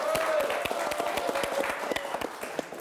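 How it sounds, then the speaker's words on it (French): Studio audience applauding on a French TV magazine show, steady dense clapping throughout with faint voices underneath. "on peut l'applaudir"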